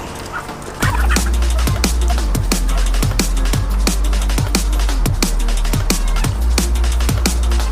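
Free-range native chickens cluck and squawk in steady repeated bursts after feeding, a busy flock close by over constant low background noise.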